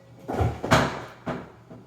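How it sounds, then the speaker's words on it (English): A house cat jumps and knocks items over indoors, giving a few separate close thumps and clattering knocks over about two seconds, with no talking. "That was my cat jumping and knocking stuff over."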